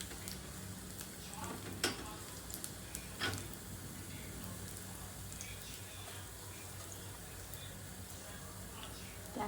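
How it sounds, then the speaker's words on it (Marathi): Finely chopped garlic sizzles in a little ghee for a spinach bhaji tempering, a faint steady crackle with occasional light clicks and brief utensil knocks. "मी थोडंसं तूप टाकलं"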